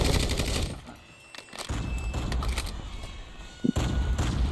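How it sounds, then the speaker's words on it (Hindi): Bursts of gunfire from the mobile shooter Call of Duty Mobile, with broadband crackling shots and thumps spread across the clip, a brief lull early, then a sharp close burst near the end. "और एक फायरिंग कर रहा है, मार रहा है, मार रहा"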